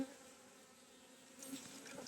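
Honeybees of a weak, sparsely populated nucleus colony buzz on a hive frame being scraped to stir them, a soft steady drone that swells slightly toward the end.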